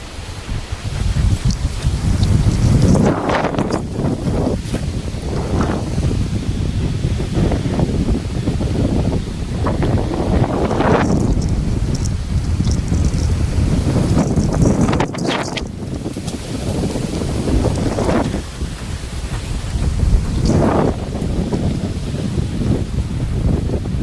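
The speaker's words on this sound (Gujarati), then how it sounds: "કેટલો પવન છે અને વરસાદ પણ આવવાની શક્યતા વધારે છે આજે।" Strong wind roars steadily into the microphone, buffeting in heavy gusts with a rustling, rushing noise throughout and no voices.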